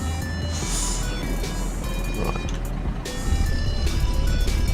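A Volvo F16 truck engine in American Truck Simulator turns over and settles into a steady low diesel rumble that swells louder near the end, heard alone without speech.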